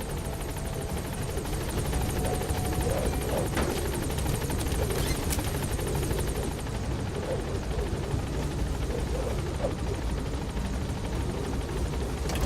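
A helicopter in the video game Metal Gear Solid V: The Phantom Pain, a steady loud rotor thrum and turbine whine filling the whole stretch, close and unbroken, with no talk.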